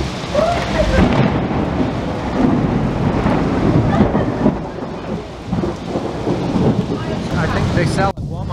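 A severe thunderstorm in Cuenca, Ecuador, with thunder rumbling and rain pouring steadily and loudly throughout, the power knocked out by a lightning strike; a faint voice may be heard briefly under the storm.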